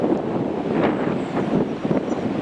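Gusty wind buffets a microphone outdoors on a cold day, a steady loud rumbling roar with no pauses and no voices.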